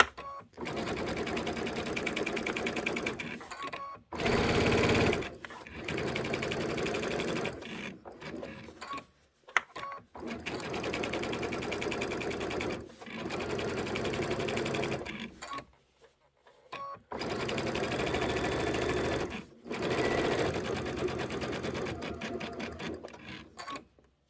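A sewing machine stitches a quilt block in repeated bursts of fast mechanical whirring and rattling, close and loud, with brief pauses and single clicks between runs.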